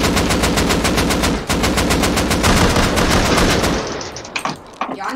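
An M249 machine gun in a video game fires a long, fast, steady burst of loud, close shots for nearly four seconds. Then it stops, leaving a few scattered thuds and clatter.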